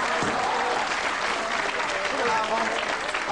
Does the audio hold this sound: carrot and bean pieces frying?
no